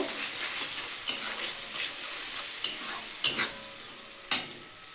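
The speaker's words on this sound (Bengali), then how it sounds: "ভালো করে আমি একটু কষিয়ে নেব" Pomfret curry masala sautés in a pan with a steady close sizzle and occasional sharp clinks and scrapes as it is stirred.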